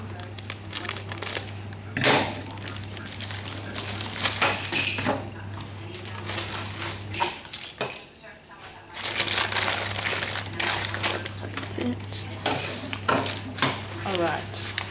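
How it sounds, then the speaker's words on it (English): A Phil and Ted's Mountain Buggy parcel being opened, with plastic packaging crinkling and rustling in bursts alongside occasional knocks, over a steady background hum while someone talks throughout. "my package from Phil and Ted's Mountain Buggy has just arrived, so I'm going to open it"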